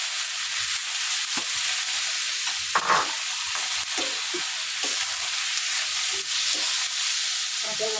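Meat, about a kilo, sizzles and fries in a pan with onions while humba is cooked, a steady hiss with occasional stirring scrapes throughout, close and alone.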